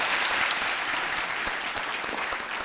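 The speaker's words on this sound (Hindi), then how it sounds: "चलिए ताली बज जाती है इसके ऊपर।" Warm, sustained applause from a studio audience on a television quiz show, a broad wash of many hands clapping evenly throughout with no breaks.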